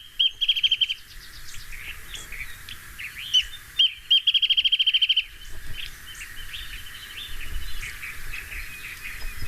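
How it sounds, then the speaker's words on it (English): Several songbirds sing in the trees along a creek trail, sharp repeated chirps and a rapid buoyant trill standing out in bursts over a steady chorus of calls, moderately close, with no talking. "All beautiful bird songs, right?"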